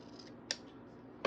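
Scissors snip through paper while trimming a box for a Happy Planner Classic layout, two quick close cuts alone in a quiet room.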